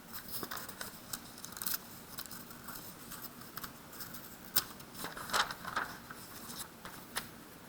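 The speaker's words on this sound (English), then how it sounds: "I'm running out of paper here, so let me flip this over." A sheet of paper being turned over on a desk, with soft rustling, scraping and crisp crinkles scattered across several seconds, quiet and close with no talking.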